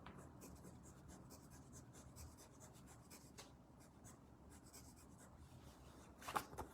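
Quiet, close scratching of a pencil drawing on paper card stock, a soft steady rasp with a slightly louder scrape near the end.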